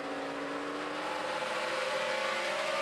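A NASCAR Sprint Cup race car runs hard around New Hampshire Motor Speedway, its engine droning steadily at speed, moderately loud amid broadcast track ambience.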